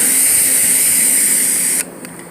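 A pressure washer sprays water across an RV roof as a loud, steady, close hiss that cuts off abruptly near the end, leaving a faint residual trickle.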